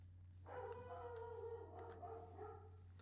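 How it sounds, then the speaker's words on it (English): A dog lets out one drawn-out, howling bark in a quiet room. It sounds faint and a little distant, with a steady low hum beneath it. "And there goes my dog."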